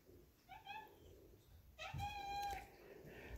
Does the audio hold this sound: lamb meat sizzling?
no